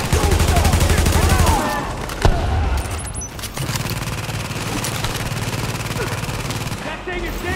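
Rapid bursts of gunfire from The Division, fighting at the Lincoln Tunnel Checkpoint on hard difficulty, loud and continuous with a sharp bang midway, while players shout over the shooting.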